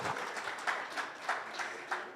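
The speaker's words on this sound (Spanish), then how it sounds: "Mujeres aplaudan, hombre, por lo menos." Church congregation at a Sunday service clapping together, a steady run of rhythmic claps over about two seconds, moderately loud and fairly close, with no talk over it.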